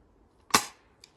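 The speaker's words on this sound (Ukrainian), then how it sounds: "Я не знаю, куди воно попадає." Cheap toy AK rifle fires a single sharp crack up close, followed by a fainter click a moment later.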